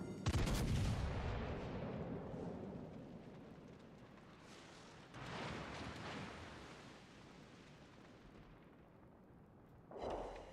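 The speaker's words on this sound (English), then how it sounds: "We get 1 more good salvo into his superstructure." Battleship main guns fire salvos in the World of Warships Legends game: a heavy boom opens, another comes midway and a third near the end, each followed by a long rumbling roar.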